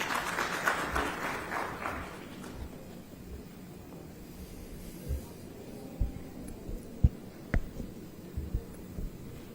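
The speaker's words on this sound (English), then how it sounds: "Let's welcome with a round of applause." Brief audience applause at an international aerospace manufacturing conference in Visakhapatnam, welcoming a state minister to the stage, loud for about two seconds and then fading to a quiet hall with occasional scattered claps and knocks.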